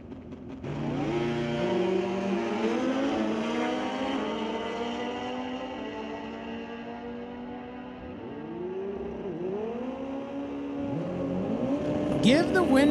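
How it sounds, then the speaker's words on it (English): Drag racing motorcycles, including a bar bike, run at an NHRA Division 6 ET Finals at Mission Raceway Park: loud engine whine holds and shifts through rising gear changes, and a second bike's revs sweep up near the end, heard from trackside. "Zach Toth scoreboard says 826 for that bar bike"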